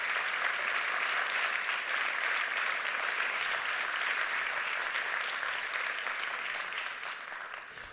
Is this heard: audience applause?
yes